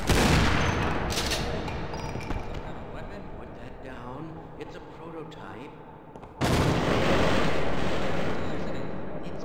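Rapid gunfire from a new weapon in the co-op shooter Half-Life Sven Co-op, a dense sustained burst that fades, then returns loud and continuous, with players talking over it.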